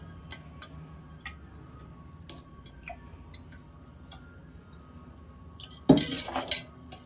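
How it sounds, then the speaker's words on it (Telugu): Light clinks and ticks of kitchenware sound sparsely around a stove as a pot is set down, then a louder burst of clatter and pouring near the end. "గిన్నె పెట్టుకున్నాక తగినంత నూనె అయితే పోసుకోవాలి"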